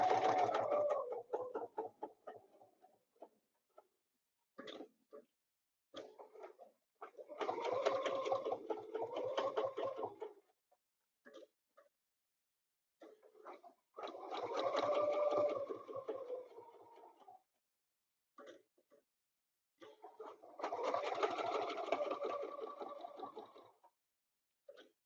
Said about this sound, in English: when I get over on this angle, my machine makes a ticky noise